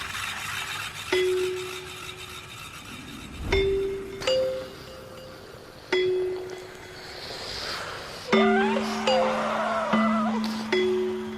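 A sparse piece of documentary film music: soft bell-like tones and chimes ring out in spaced phrases over a quiet, airy background.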